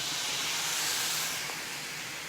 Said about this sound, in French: On va venir prendre sa bouteille de vin et on va déglacer sa casserole.